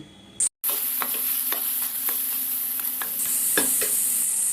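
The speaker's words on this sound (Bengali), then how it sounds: "মশলার সাথে আমি সব কিছু কষিয়ে নিচ্ছি।" Shakshuka base stir-fried with chili and cumin powder sizzles loudly in a pan, with repeated scraping strokes of a spatula stirring at an uneven rhythm over the constant hiss of frying.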